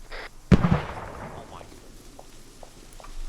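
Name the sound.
grenade explosion in video game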